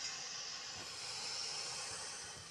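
A car wash in the Roblox game Brookhaven gives off a steady, fairly quiet hiss that holds without a break throughout, with no talk.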